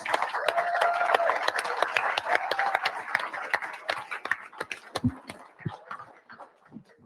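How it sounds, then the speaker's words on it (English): Applause from a meeting audience welcoming new drivers from three terminals, dense clapping that tapers off toward the end, with some voices mixed in. "We'd like to give you a round of applause."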